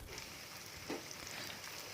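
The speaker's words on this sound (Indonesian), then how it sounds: "Lalu ini kita goreng menggunakan api yang sedang saja." Small pieces of tofu fry in a wok full of oil over medium heat, giving a steady, close crackling sizzle with a brief louder pop and no talking.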